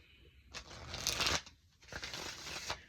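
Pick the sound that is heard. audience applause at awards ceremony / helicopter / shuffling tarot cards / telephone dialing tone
shuffling tarot cards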